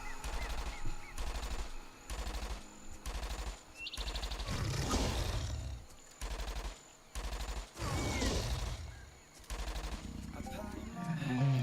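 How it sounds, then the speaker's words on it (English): Bursts of automatic gunfire in a video game set underground in a mine, coming in regular clusters separated by short pauses, loud and close, with someone talking in between. "the shooting pause is definitely annoying"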